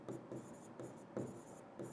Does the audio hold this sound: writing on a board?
yes